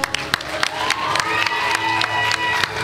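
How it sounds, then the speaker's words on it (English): At a Year 6 school awards event, the crowd cheers and claps for a teacher. Scattered loud claps sit over a steady crowd hubbub, and a rising whoop carries through the middle. "Big round of applause."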